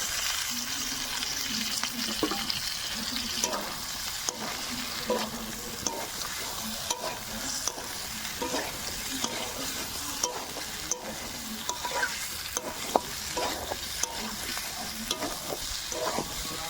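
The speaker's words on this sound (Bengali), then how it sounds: "এবার এর মধ্যে ভাজা মাছ আর আলু দিয়ে মশলার সঙ্গে আবার একটু কষিয়ে নেব" Fried fish and potatoes stirred in a spice paste in a pan sizzle steadily at moderate level, with regular scraping strokes of the spoon every second or so; no talking.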